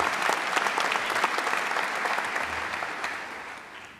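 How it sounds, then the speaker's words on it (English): Loud, sustained audience applause for osteopathic medicine graduates at a white coat ceremony, many hands clapping densely throughout and tapering slightly at the end. "Round of applause for our grads."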